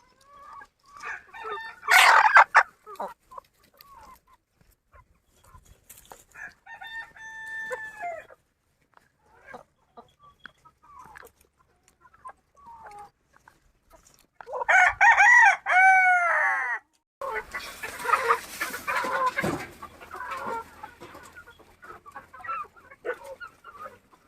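Free-range village chickens and roosters feed on scraps gathered from a farm, with a rooster crowing loudly twice amid scattered clucks and calls; a dog may bark faintly.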